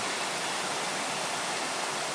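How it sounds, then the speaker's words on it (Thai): Fast-flowing water rushes through a forest stream in Sweden, a steady, dense broadband roar that stays constant and fills the whole stretch with no voices. "น้ำไหลเชี่ยวมาก"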